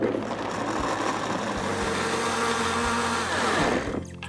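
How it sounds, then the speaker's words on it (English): A countertop blender whirs steadily as it purées soaked cashews with hot liquid for a dairy-free clam chowder, a loud, even motor drone that winds down abruptly near the end. "Now, of course, be careful blending hot liquids."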